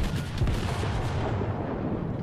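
Colorado battleship main guns booming in World of Warships naval combat, a dense rumbling low roar sustained throughout at steady loudness with no voices.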